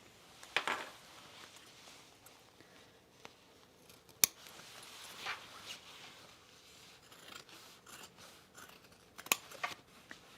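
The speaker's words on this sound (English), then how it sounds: "now we're going to cut our hole" Scissors snipping a hole in fabric while sewing an Amelia bomber jacket, quiet scattered cuts with a few sharper clicks and rustles, close and soft, no talking.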